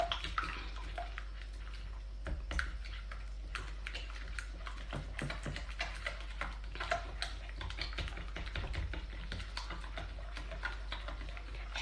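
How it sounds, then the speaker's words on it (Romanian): A whisk beating cake batter and egg in a bowl for a chocolate honey-layer cake, giving quick, steady clicking and scraping strokes at close range throughout, fairly quiet and with no talk. "Și acum o să amestecăm totul cu un tel."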